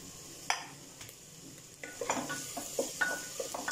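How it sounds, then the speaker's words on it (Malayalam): Onions sauté in a pan with cardamom, cinnamon, ginger, garlic and green chillies for a Malabari chicken soup curry, a soft sizzle broken by sharp scraping stirs that grow busier and louder toward the end. "ഉള്ളി നന്നായിട്ട് വഴന്ന് വരുന്നുണ്ട്"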